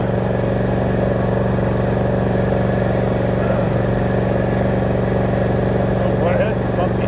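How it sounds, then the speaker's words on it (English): A tractor pulling a bush hog mows weeds in a big pasture, its engine a steady, loud drone with constant mechanical rumble throughout. "I guess I got the bush hog and tractor."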